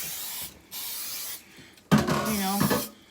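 Cooking spray, a budget alternative to baking spray, hissing from an aerosol can onto the sides of a cake pan in a home kitchen: a few close, loud bursts, two short sprays followed by a longer one.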